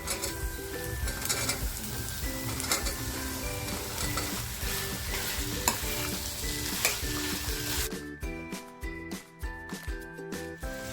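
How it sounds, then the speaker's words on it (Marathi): Elephant foot yam and green chickpeas fry in a pan with a steady loud sizzle and stirring, after which the texture turns into rougher, choppier bursts of frying. "आणि आता जे सुरण आणि चणे घेतलेले आहेत ना ते टाकते आहे"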